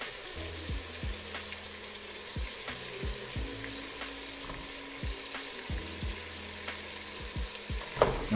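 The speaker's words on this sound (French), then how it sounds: "on va tout de suite mettre les tomates dedans les amis" Tomatoes frying in a little oil in a pot for a veal tajine, with a steady close sizzle and repeated scraping clicks of stirring, plus a brief louder clatter near the end.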